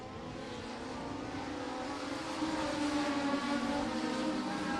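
Legends race cars at Maquoketa Speedway during a heat race give a sustained engine drone that builds slightly in loudness as the pack runs side by side, with no voice over it.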